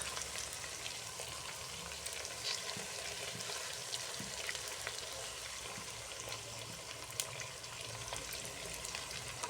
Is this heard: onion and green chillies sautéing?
yes